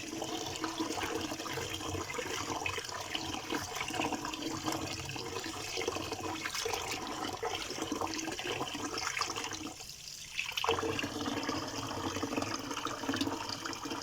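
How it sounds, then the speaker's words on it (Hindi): Water rushes steadily as potatoes are washed in a cooking kitchen, a continuous close splashing flow with one brief dip in the middle. "हम इसे अच्छी तरह वॉश करेंगे, आलू के ऊपर कोई मिट्टी ना रहे।"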